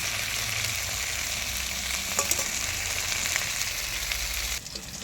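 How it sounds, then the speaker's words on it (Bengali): Fish frying in hot oil, cooked until crisp, with a steady dense sizzle and spatter running throughout at close range, plus a few brief crackles and a slight drop in the sizzle near the end. "আর আমার ছেলের জন্য একটু কড়া করে ভাজছি"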